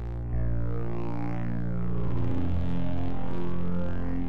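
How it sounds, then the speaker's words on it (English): A distorted Thor synthesizer patch in Reason 5 drones with a dense, buzzing harmonic tone that holds steady for about four seconds, with a descending sweep early on and no talking. "And that's just my distorted sound."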